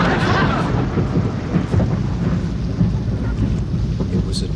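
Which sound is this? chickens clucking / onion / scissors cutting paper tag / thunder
thunder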